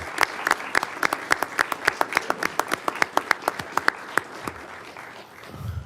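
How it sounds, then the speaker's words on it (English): Audience applause at a Douglas County commissioners business meeting, heard as a steady run of crisp, distinct claps from a modest crowd that fades out at the end. "How about a big round of applause for Deputy Birch and Christina Brown"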